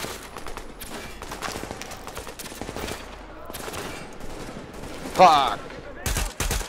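A firefight in The Division crackles with scattered gunshots under excited talk, then a louder, sharp impact and a pair of heavy cracks near the end, including sniper fire.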